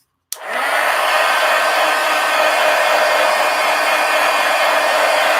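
A heat tool blows steadily to dry paint in a mixed media art journal, switching on with a click and then holding a loud, even whirring hiss throughout.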